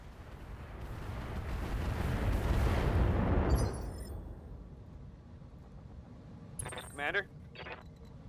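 Precision strike explosions in a war video game, a heavy rumbling blast swelling over a few seconds and fading, followed by fainter metallic clinks and a distant thud amid talk.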